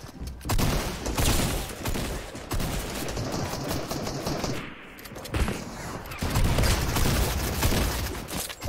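Constant gunfire in a team battle video game, dense automatic bursts and overlapping shots from several weapons, loud and nearly unbroken except for a brief lull midway, with no talk over it.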